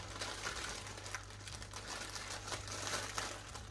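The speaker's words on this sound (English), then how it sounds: "Sorry for the crinkling." Plastic packaging around hanks of cross-stitch thread crinkles and rustles continuously up close, a soft busy crackle with no talk over it.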